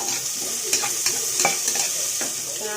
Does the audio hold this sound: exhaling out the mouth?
no